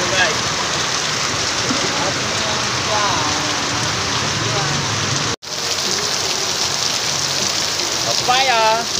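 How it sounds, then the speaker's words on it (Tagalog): Heavy rain pours down steadily, a dense loud hiss of drops on surfaces with a brief dropout midway, while faint voices and birdlike chirps come through underneath. "Lakas ng ulan."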